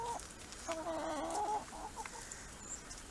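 Hens that lay green eggs cluck in a backyard setting, a run of close, chattering clucks in the first half followed by quieter, scattered calls.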